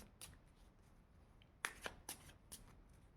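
Tarot cards being shuffled by hand, a few quick soft riffles and slaps close by at low volume against a quiet background, with no talk.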